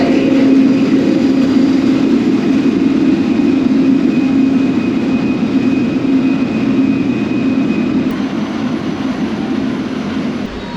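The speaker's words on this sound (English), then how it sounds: "You can hear the engine." A ship's engine gives a steady, loud low-pitched drone with a constant hum and faint mechanical whine, continuous throughout with no voices.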